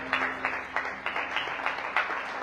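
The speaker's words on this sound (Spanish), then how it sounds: "Un aplauso para el Señor" A church congregation claps together in a steady rhythmic beat, roughly three or four claps per second, fairly close and moderately loud over a low background hum.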